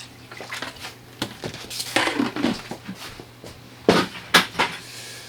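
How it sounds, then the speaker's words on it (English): Liquid soap poured into a container of water during a cleaning job, giving a few scattered sloshing and splashing bursts with soft clatter in between, fairly quiet and close. "I'm gonna pour the soap into here."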